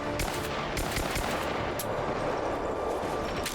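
Gunfire in the video game Rise of the Tomb Raider, with dense, rapid automatic bursts mixed with single shots, loud and nearly continuous, with no talk.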